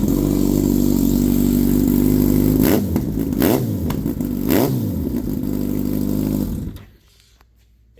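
A motorcycle with a Brock's Alien Head slip-on exhaust and Sprint P08 street filter idles loudly up close, then gives several sharp revs with a throaty, raspy bark before the engine shuts off and goes quiet.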